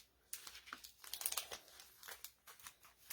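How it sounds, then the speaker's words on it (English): Plastic shopping bags crinkle and rustle in quiet, irregular bursts as they are handled close by, with short pauses between the crumpling sounds. "we can try not to make too much noise with the bags"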